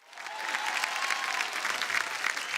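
Loud, dense audience applause at a quiz show, swelling quickly and holding steady close by for a few seconds.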